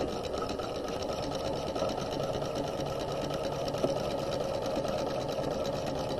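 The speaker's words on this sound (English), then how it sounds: "we're going to sew across the shoulder seam" A sewing machine runs a regular stitch across a garment's shoulder seam, giving a fast, even mechanical whir that holds steady and close for the whole stretch.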